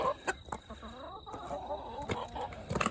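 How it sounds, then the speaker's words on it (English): Chickens on a farm during morning chores cluck close by in short, irregular bursts, with soft rustling and background movement between calls. "Chickens are a little presumptuous."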